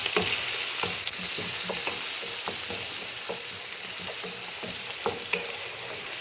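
Crushed onion, green chilli, garlic and ginger sautéing in a pan for a fish curry, a loud, continuous sizzle with scattered stirring clicks throughout.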